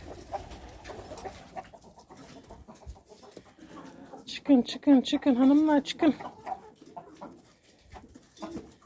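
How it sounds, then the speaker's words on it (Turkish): A rooster crows once in a short, strained call, while a woman nearby repeatedly calls out in a coaxing voice before and after it. "Korkak horozum benim."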